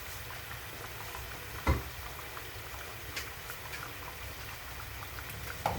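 Mandazi dough frying in hot oil, a steady low crackling sizzle with a couple of brief louder pops, close by and alone.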